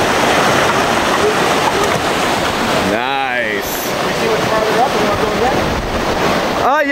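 A radio-controlled Thrasher jet boat on a 5S LiPo battery charges up a river's rapids, its whine buried in a constant roar of rushing water and wind buffeting the microphone, with a short rising pitch sweep midway.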